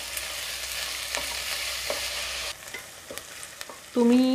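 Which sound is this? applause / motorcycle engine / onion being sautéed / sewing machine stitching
onion being sautéed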